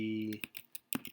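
Typing on a computer keyboard, with a few quick, light key clicks in an uneven rhythm following a brief held tone, close and quiet.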